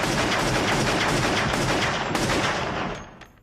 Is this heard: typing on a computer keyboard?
no